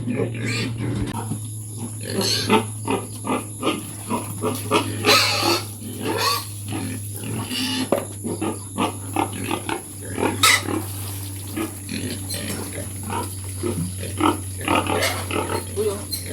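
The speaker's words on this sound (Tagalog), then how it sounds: "papakainin natin yung baboy" Repeated pig grunts and snorts come in bursts close by, with people talking over them and a steady low hum underneath.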